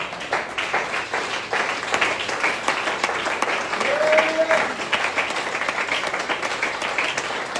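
A church congregation at a Sunday worship service applauds steadily, dense continuous clapping with a few cheers mixed in, sustained at an even level throughout.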